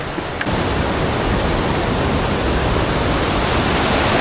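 Clear water flowing in a stream in the hills near Kasol: a loud, steady broadband rush of water, close and continuous, with no talk.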